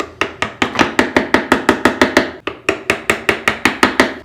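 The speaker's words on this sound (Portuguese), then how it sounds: "deito o chanfro para baixo, vou batendo em 45, 30 graus e vou removendo" A mallet strikes a chisel in steady, rapid blows, cutting away wood for a homemade marking gauge; the sharp, loud knocks come about four per second, with one brief pause midway.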